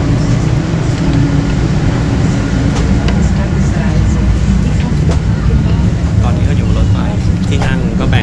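A loud, steady rumble of a train pulling into a station in Vienna, with faint metallic squeals and people talking underneath.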